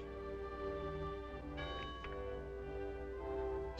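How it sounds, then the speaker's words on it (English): A church bell tolls on a Sunday morning in a small country town, its long ringing tones sustained and layered over a steady background, with a fresh strike partway through. "the tolling bell summons the faithful to their church."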